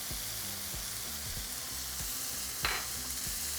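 Lean ground beef sizzles in a hot pan with garlic salt, pepper, chili powder and cumin, a steady close crackle broken by regular scraping strokes of a utensil stirring the meat, with one sharper clatter near the end.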